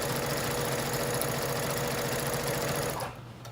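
A sewing machine runs steadily stitching fabric for a couch cover, a close, fast mechanical whir and rattle that stops abruptly near the end.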